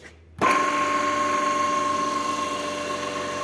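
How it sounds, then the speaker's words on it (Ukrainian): An NVR-100 vacuum unit's pump starts up after a brief quiet moment and runs steadily, pumping air out of the receiver with a loud, even mechanical whine and hum up close and no speech. "Насос почав працювати."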